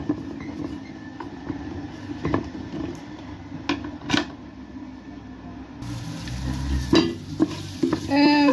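Meat simmering in a pot for couscous, cooked without salt, gives a low bubbling sizzle punctuated by spoon clicks and scrapes, growing louder and busier in the last few seconds.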